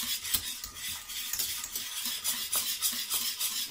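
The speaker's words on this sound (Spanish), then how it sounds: "vamos a seguir revolviendo sin parar" Homemade pastry cream is stirred continuously in a pot, giving a soft, rhythmic scraping and swishing of a utensil against the pot with a faint bubbling underneath.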